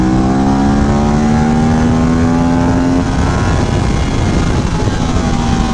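An Aprilia RS 457 motorcycle being test-ridden roars loud and close, its engine note climbing steadily before giving way to a broad rushing noise as it passes.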